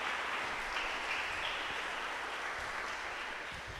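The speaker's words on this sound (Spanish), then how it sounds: "Dale fuerte ese aplauso a la palabra de Dios" A church congregation applauds together, a steady, dense wash of clapping that holds evenly throughout and tapers slightly at the end, with no voices over it.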